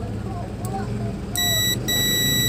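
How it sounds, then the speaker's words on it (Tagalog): A loud electronic buzzer on an Omni AVR-1000W voltage regulator with an over-voltage output fault sounds twice in short bursts, a harsh steady tone, with background engine hum and faint movement beforehand. "may buzzer dito."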